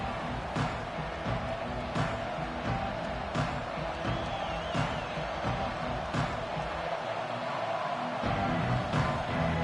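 Stadium crowd roaring steadily through a college football game between Florida State and Clemson after a touchback, a dense continuous din with sharp thuds and swells, with an announcer's voice faintly under it.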